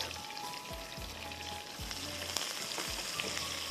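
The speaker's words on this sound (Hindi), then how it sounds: "इसको हमने ज़रा सा फ्राई करेंगे, अच्छी सी खुशबू आने लगे।" Onions fry in oil with a steady, soft hissing crackle, and a few low thumps and scrapes are heard as the pan is stirred.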